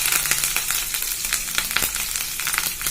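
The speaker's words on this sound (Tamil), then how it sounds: "எண்ணெய் காய்ச்சோன்னே கடுகு, உளுத்தம்பருப்பு, கடலைப்பருப்பு போட்டிருக்கேன்" Mustard seeds, urad dal and chana dal sizzle and crackle in hot oil for a raw mango rice tempering, a steady close frying hiss dotted with sharp pops.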